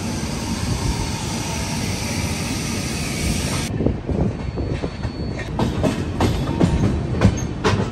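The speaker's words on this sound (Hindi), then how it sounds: "बिलासपुर से तो मस्त हमारा ट्रेन चले जा रहा है" Howrah Duronto express train running on the tracks after leaving Bilaspur: a loud, steady rolling roar close by, with the rhythmic clatter of wheels over rail joints building toward the end.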